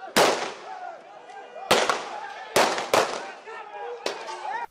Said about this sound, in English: released several gunshots in the air